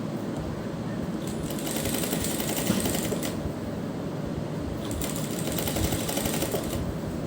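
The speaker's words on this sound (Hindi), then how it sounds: "तो देखिए, सिलाई लगाते हुए हम इस घेरे पर इस लेस को कंप्लीट कर लेंगे।" A sewing machine runs in steady bursts while stitching lace around the hem of a kurti, a close, rapid mechanical rattle with short pauses between runs and no talk over it.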